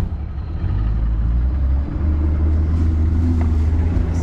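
A 50 hp two-stroke outboard motor on a 1995 Spectrum boat runs close by, a loud steady low rumble that swells slightly as the throttle opens.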